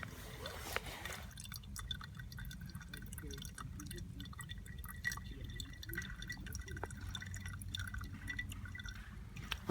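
Water from a Sawyer water filter drips slowly beside the Duck River, faint soft drops over a low steady outdoor background.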